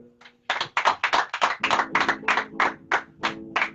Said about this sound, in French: nous allons acclamer pour la gloire de l'Éternel